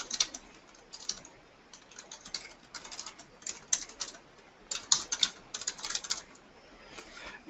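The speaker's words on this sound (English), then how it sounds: "Type in a description." Steady typing on a computer keyboard: bursts of quick, light key clicks close to the mic, with short pauses between runs of strokes and no voice.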